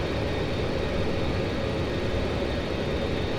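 An Avro Vulcan's jet engines roar steadily in a flight simulator, heard as a dense, continuous low rumble with a faint high whine on top and no pauses or voices.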